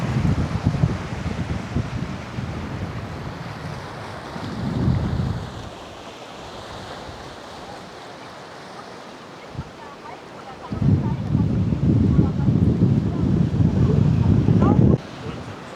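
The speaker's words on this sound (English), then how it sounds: "just look at the beauty and the might of the Atlantic Ocean" Atlantic Ocean surf rolls onto Maspalomas beach on Gran Canaria in loud broad washes, easing to a softer hiss in the middle before a strong wave surges back, with wind buffeting the microphone throughout.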